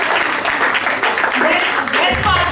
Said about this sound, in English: Big round of applause for Mishti